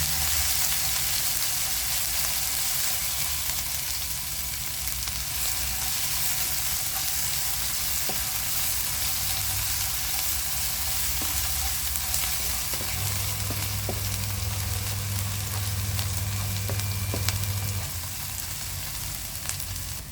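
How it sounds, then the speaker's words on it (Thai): Pounded Thai curry paste fries in sunflower oil with a steady, close sizzle that runs the whole time, broken by occasional light stirring clicks. "แล้วก็ตามด้วยเครื่องแกงที่เราตำไว้นะคะ ผัดจนเขาเหลืองหอมค่ะ"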